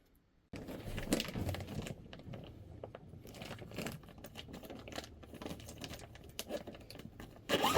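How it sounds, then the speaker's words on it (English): A zipper is drawn along a pouch amid crinkling fabric and handling noises, with short rasping strokes close to the microphone. "Zipper pouch."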